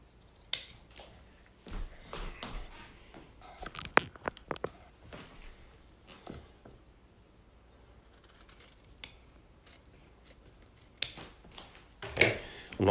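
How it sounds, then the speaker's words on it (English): Scissors snip diagonal cuts into a bookbinding cover at the corners of a massive 1622 folio rebuild, giving a few scattered close crisp cuts and paper-like crunches with quiet gaps between them. "this is the point at which we're going to do some diagonal cuts"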